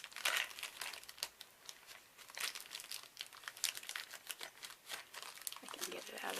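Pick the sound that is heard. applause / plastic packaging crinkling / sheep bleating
plastic packaging crinkling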